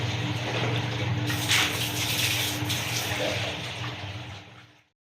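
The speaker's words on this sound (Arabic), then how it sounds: "وجبت جردل فاضي ومليته ميه" Water from a tap pours steadily into an empty bucket in a home bathroom, a close, continuous hissing gush that runs unbroken for several seconds and then stops abruptly.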